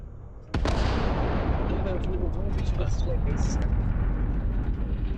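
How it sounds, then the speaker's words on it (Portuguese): A loud explosion in the video game Starfield, played on Xbox Series S, bursts in after a quiet start and rolls into a sustained, dense rumble with scattered crackles that lasts to the end. "teve uma explosão aqui"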